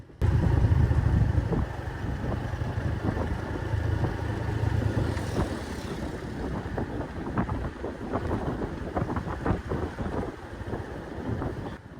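A Honda Revo underbone motorcycle rides through the Dieng area, its engine rumbling steadily under strong wind buffeting the microphone throughout.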